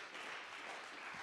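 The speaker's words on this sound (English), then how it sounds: "We should clap for that." An audience claps together in a soft, dense patter of applause that sounds somewhat distant and lasts only about a second.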